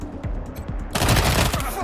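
Gunfire erupts in the Wasteland video game, with scattered shots followed by a dense, loud burst of rapid fusillade fire. Voices talk over the shooting.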